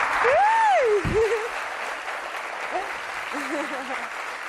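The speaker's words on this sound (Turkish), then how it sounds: "Bir alkış alalım o zaman." An audience in a village setting breaks into applause, starting loud and thinning out over a few seconds while voices call and sing over the clapping.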